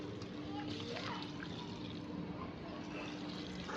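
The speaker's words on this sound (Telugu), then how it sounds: "తర్వాత సూప్ తగ్గట్టు వాటర్ పోసుకోవాలి." Water is poured into Telangana-style goat head curry in a pressure cooker, a soft continuous stream with gentle splashing held at an even level throughout.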